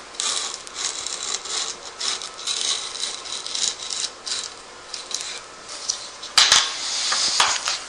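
A hand edge trimmer cuts iron-on wood veneer edging along a panel, making short, repeated scraping and rasping strokes in uneven bursts, close up and fairly quiet, with no talking.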